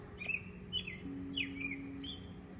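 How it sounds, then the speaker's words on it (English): A robin sings in short bright phrases, three or four chirping bursts spaced about half a second apart, heard at moderate distance over a low steady hum. "It's a robin."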